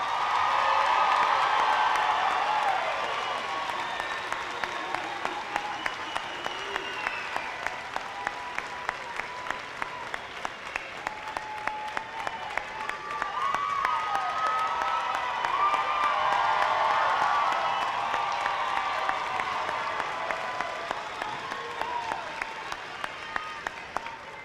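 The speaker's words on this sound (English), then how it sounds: "Let's give them another round of applause." A large crowd at a 2024 graduation ceremony applauds steadily with scattered cheers and whoops, a dense wash of clapping that swells and eases over a long stretch.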